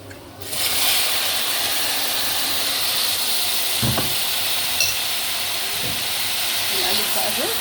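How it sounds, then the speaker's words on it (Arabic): Rice being stirred in a hot pot during stewed meat and vegetable cooking, a steady frying sizzle and hiss throughout with a few soft scraping stirs, close and continuous. "نقلب بقى الرز"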